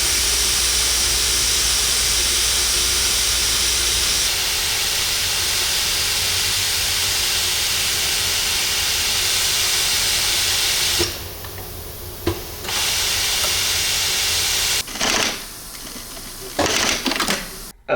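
A Macpi 336.59T seam taping machine applies Faitplast mono stretch tape to fabric for biker shorts, giving a loud, continuous hiss and whir that runs steadily before breaking into short stops and restarts near the end.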